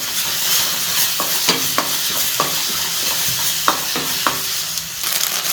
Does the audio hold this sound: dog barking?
no